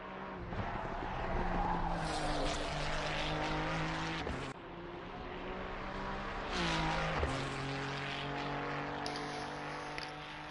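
Race car tires squeal and skid over a roaring engine in the racing game Assetto Corsa Competizione, the pitch sweeping up and down in two long passes.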